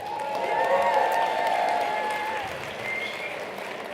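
An audience at a ski film night at Alpenglow Sports applauds the event's local supporters. Dense, sustained clapping is mixed with a few whistles and cheers, then slowly eases off.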